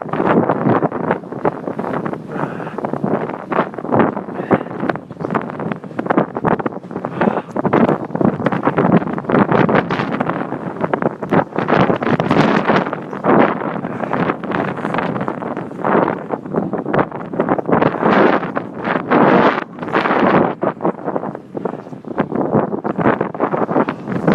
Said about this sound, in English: They said the wind's blowing about 15, but I think it's gusting up to 17 or 20.